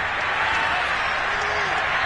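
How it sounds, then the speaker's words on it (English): Dense, steady crowd applause in an EA Sports football video game, a continuous hiss of many hands clapping at full volume throughout. "We're going to give out a little applause on that play."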